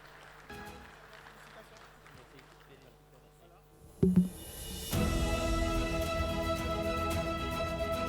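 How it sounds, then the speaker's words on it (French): Audience at the Industry Meeting Awards 2024 bursts into sustained applause as a winner walks onto the stage, rising after quiet room noise and a few thumps, then filling the hall steadily. "Applaudissez-le le temps qu'il monte sur scène."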